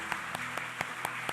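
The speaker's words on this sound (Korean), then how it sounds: "여러분 박수로 한번 축복해 주시죠." A church congregation at a Sunday New Year service claps in a slow, steady, even rhythm, quiet and distant with no talk.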